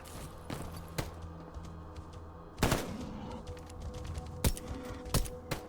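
Scattered gunshots at a boar in S.T.A.L.K.E.R. G.A.M.M.A., a few sharp isolated cracks spaced over several seconds, moderately loud against quiet ambient background, no talk.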